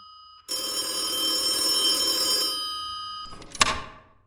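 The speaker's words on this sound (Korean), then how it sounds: "전화가 왔는데?" A telephone rings inside the video game Route 8, a bright electronic bell ringing steadily for about two seconds, then stopping, followed by a brief click and clatter at the end.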